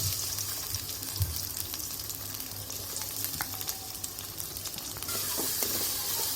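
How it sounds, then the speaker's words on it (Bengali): Onions frying in hot oil in a heated wok, a steady bright sizzle with occasional stirring scrapes and small pops, close and continuous, swelling slightly louder toward the end. "এখন আমি এখানে পেঁয়াজ দিয়ে দেব।"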